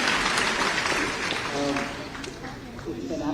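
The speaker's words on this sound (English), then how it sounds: "I'm not worthy of such applause" Applause from an audience at a live book event in India fades from a steady wash toward scattered claps, while a voice speaks over it.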